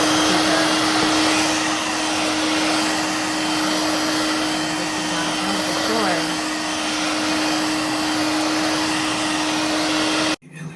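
A Dirt Devil Vibe 3-in-1 corded stick vacuum cleaner runs with a loud, steady motor whine and airy roar that holds constant for about ten seconds before cutting off abruptly.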